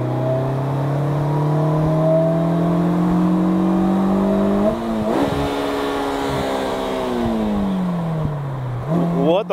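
A 2022 Polaris Slingshot SLR roadster accelerating hard from about 40 to 80, its engine note climbing steadily through a gear with a shift midway, loud and close from on board, with brief talk over it.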